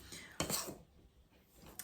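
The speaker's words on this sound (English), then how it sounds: "using this pastry blender. These blades on here make it a lot easier" A metal pastry blender cuts butter into dry muffin mix in a bowl, giving a quiet scrape and a clink of blades against the bowl, faint and close.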